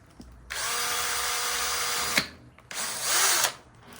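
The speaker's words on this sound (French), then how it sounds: "n'ayez pas peur de percer" Power drill boring drainage holes in a plant pot while potting fig cuttings, a steady loud whine for about two seconds, then a pause and a second shorter burst, close up.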